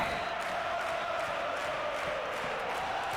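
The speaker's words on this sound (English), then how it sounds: "Listen to the crowd now. They've woken up." A stadium crowd in the football video game PES 2013 roars and cheers in a steady, dense wash of noise for several seconds.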